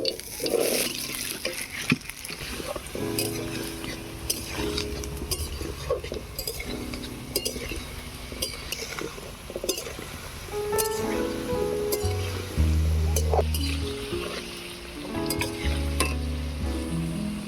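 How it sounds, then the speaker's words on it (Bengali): Potato pieces sizzle steadily in hot oil in a pan, with a spatula scraping and clinking against the metal now and then, close and continuous for the whole stretch. "এবারে আলুটা ভেজে নেব।"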